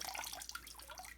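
Glaze dripping and trickling off a pot just dipped in a glaze of clays, zinc, talc, kaolin and silica mixed with water, a brief close splashy patter with no voices.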